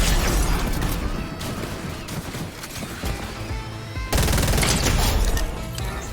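Rapid bursts of railgun fire in a competitive shooter video game, loud, dense crackling shots coming in clusters with mechanical clatter between them.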